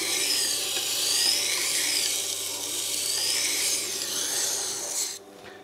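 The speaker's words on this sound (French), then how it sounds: "Et maintenant, on fait aller et venir le couteau sur la meule." A knife sharpened on a Tormek water-cooled grinding wheel, a steady close grinding rasp as the blade moves back and forth across the stone, continuous and even, stopping abruptly near the end.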